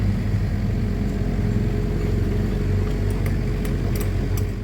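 Heavy truck hauling pipes arriving at a construction pit for a pipe-jacking project, a steady loud low engine rumble throughout with faint clanks near the end.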